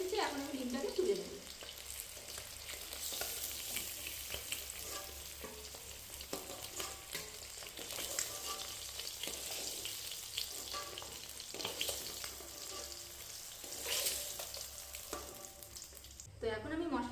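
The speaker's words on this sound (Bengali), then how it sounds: "তো আমাদের ডিমটা কিন্তু ভাজা হয়ে এসেছে।" Egg frying in oil in a pan, a continuous loud sizzle with stirring scrapes running throughout, under occasional talk.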